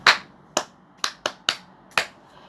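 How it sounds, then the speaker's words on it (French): A few separate hand claps in a French-language classroom, six sharp, close claps spaced irregularly over a couple of seconds with near silence between them. "Applaudissez pour elle."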